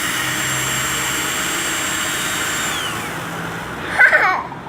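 Electric drill whirring steadily while mixing slime, a loud continuous motor whine that winds down near the end, followed by a brief clatter.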